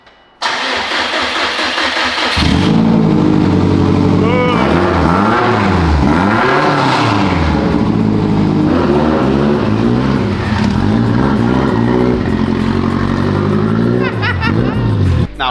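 A monster truck fitted with a Lamborghini twin turbo kit cranks and fires up, then revs repeatedly in rising and falling sweeps over a rumbling idle, loud and close throughout.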